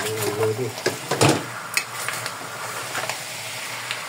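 Pork humba fries in a pan as its fat renders out, a soft continuous sizzle with a few light scrapes and clinks, partly under a speaking voice.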